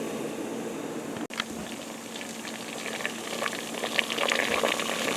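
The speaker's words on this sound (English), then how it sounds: "the squash is boiling a real good hard boil" Water boiling hard in a pot of squash, a steady bubbling hiss that holds throughout with no voices.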